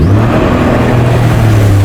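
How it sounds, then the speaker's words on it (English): A jet ski engine runs close and loud near Adome Bridge, a constant droning whir with a steady low hum and no break across the short stretch. "When the key comes out, the entire engine goes off."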